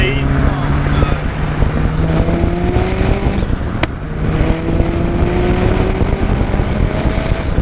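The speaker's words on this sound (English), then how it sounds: "I just love the sound that this car makes." RX-5 Turbo car engine under way, a loud continuous drone with rising gear-change sweeps and a sharp click near the middle, heard steadily with a voice talking over it.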